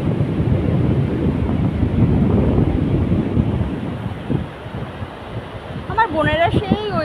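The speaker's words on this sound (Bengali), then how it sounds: "হাওয়া কিন্তু সেই দিচ্ছে, মানে কি বলবো, হাওয়া সেই দিচ্ছে।" Strong wind buffets the microphone at the Mandarmani seaside, a loud, steady roaring rumble that eases slightly before voices briefly break in near the end.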